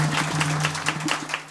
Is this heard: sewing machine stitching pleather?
no